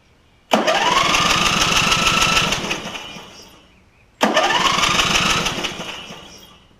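A Craftsman lawn tractor with a Briggs & Stratton engine fires up twice, each start jumping straight into a loud, steady running roar for a few seconds before dying away, close by and with no talk.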